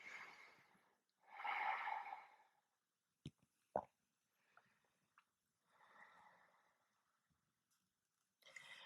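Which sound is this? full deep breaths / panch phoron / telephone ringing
full deep breaths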